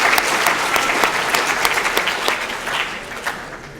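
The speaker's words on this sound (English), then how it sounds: "Let's give them a round of applause before we go there." Lecture audience clapping, a brief burst of dense applause from a room full of people that holds steady and then thins out over a few seconds.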